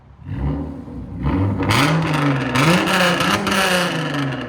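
A straight-piped, tuned 3.8L V6 Hyundai Genesis Coupe idles briefly, then is revved repeatedly in quick, loud surges that stay high and raspy. The sound is close to the car and unaccompanied by speech.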